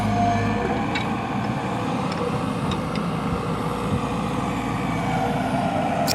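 A heavy vehicle mixing soil at a construction site rumbles with a steady low engine drone, continuous and moderately near, with faint clanks and no talk.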